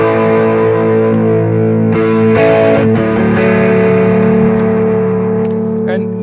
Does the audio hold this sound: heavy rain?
no